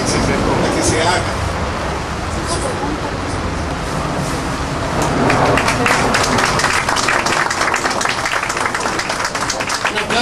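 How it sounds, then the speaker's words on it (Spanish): A crowd claps at an outdoor camp rally of Mexicana de Aviación workers, steady dense applause that swells louder midway and continues throughout. "Un aplauso para Antonio."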